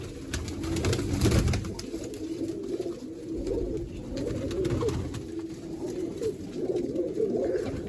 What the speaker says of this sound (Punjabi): ਓਨਲੀ 10 ਕਬੂਤਰੀਆਂ ਇੱਧਰ ਸੀ